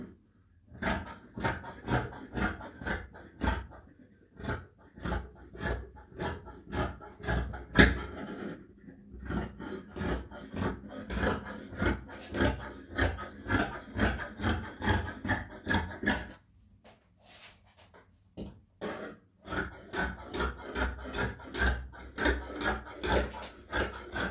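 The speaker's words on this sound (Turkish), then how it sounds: "Şimdi hemen arka bacağımı da kesiyorum." Scissors cutting polar fleece trousers, a quick run of crisp snips at close range, pausing briefly midway and then resuming, no voices.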